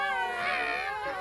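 Voices playing three little kittens in a nursery-rhyme cartoon imitate meowing, giving a drawn-out, wavering, high-pitched mew that sounds close and clear.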